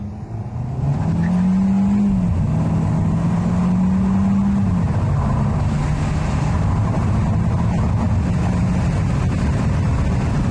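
A Kia K5 sedan accelerates on a road at night, its engine a steady low drone that rises in pitch as it revs, holds, and shifts through gears, heard from inside the cabin with constant road noise.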